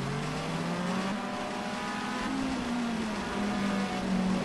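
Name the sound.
race cars driving on the Albi circuit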